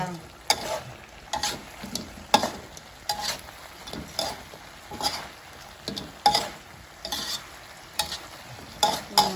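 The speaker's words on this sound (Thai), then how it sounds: "อ่าเอาปลาลงแล้วนะคะ" Fish frying in a pan of hot oil with a steady sizzle, repeated stirring strokes and utensil scrapes at a regular rhythm, close and moderately loud with no talking.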